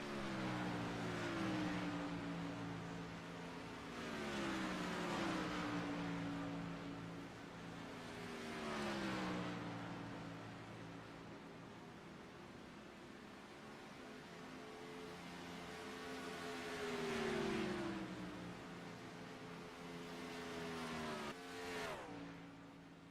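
Race cars at Charlotte's winter season finale sweep across the start-finish line on the final lap, engines rising and falling in pitch as several pass in succession, steady and loud with no talk.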